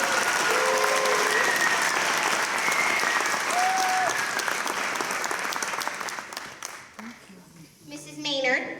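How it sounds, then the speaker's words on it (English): An audience at a school musical, Annie Jr, applauds steadily for several seconds, a broad wash of clapping that thins out near the end as a faint voice and some whistling come through. "We can have a round of applause."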